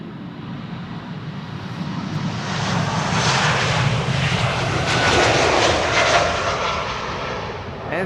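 A KLM Embraer E2 jet departing Amsterdam Schiphol for Alicante thunders past, its engine roar building loud and crackling in the middle before easing slightly, heard alone without talk.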